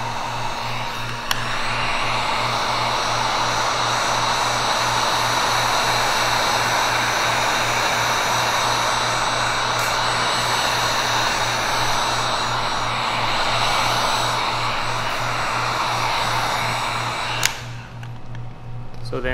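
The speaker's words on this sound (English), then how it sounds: "I'm going to speed up the process by applying heat using a heat gun" A heat gun blows steadily on a truck hood's self-healing top coat, a continuous loud roaring whoosh with a low hum beneath, running unbroken for nearly twenty seconds before cutting off near the end.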